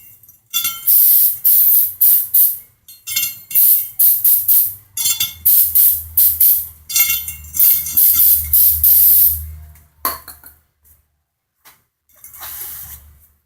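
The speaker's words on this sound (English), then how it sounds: "Spray my axle." Cleaner sprayed onto a car's rear axle during a differential and axle seal service: a series of short, loud aerosol hisses in bursts, one after another, with brief pauses and a fainter final spray.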